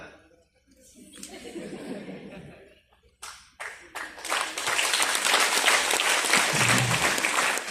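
An audience at a seminar breaks into applause after chuckles and scattered laughter, starting with a few claps and swelling into sustained, full clapping from a crowd, with a voice speaking briefly before.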